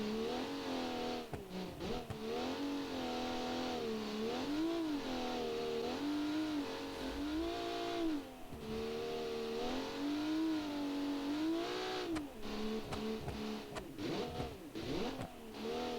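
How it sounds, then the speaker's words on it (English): A rally car with a 400-horsepower turbocharged straight-six engine revs and accelerates in a classic rally competition, the engine note repeatedly climbing and dropping through gear changes, loud and continuous with no talking. "This has a turbo straight 6 with 400 horsepower, by the way."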